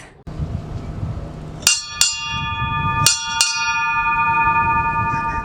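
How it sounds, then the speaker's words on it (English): Four clear metallic strokes of a ship's bell aboard a tall ship ring out in two pairs, each ringing tone lingering over a low background hum. "it was common to keep track of the time using the ship's bell that would ring every half hour"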